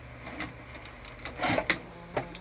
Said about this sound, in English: we're going to top stitch across the bottom